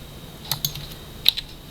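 Ctrl and Shift keys are pressed on a computer keyboard, a few light, quick clicks near the microphone with a faint background hum.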